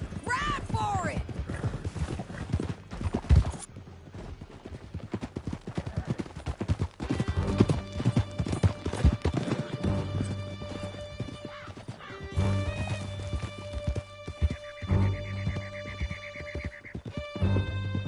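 Horses galloping during a canyon chase in the Red Dead Redemption 2 video game, with rapid hoofbeats, whinnies and neighs, and gunfire cracks amid music, while characters shout and talk over the action.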